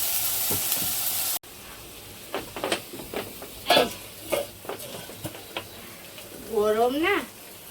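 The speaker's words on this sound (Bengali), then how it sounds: "এখন সব মশলা এর মধ্যে দিয়ে দিলাম।" Fried paneer sizzling in a pan as spices are stirred in, a steady frying hiss with clinks of a utensil, while someone talks over it throughout.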